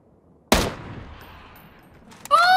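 A single sharp, loud gunshot from a battle royale shooter, PUBG, cracks out of near silence and decays into a short echoing tail, followed by a brief bright electronic whine.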